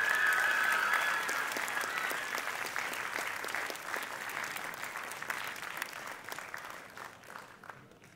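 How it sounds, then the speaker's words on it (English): Sustained audience applause at a primary school swimming awards ceremony, dense and steady clapping at moderate distance that gradually fades toward the end, with no talking over it. "A round of applause."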